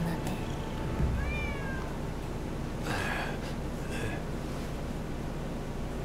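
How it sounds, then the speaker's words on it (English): A stray cat in the video game Rise of the Ronin gives a few distinct meows, near and clear over a steady low background hum. "Who'd have thought a stray cat would wander in?"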